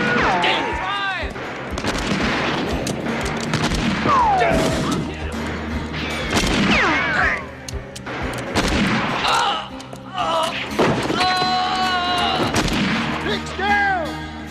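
Sharp gunshots and crashing impacts in a western comedy shootout, scattered irregularly over a dense mix of shouting voices and action noise, with loud bangs at several points.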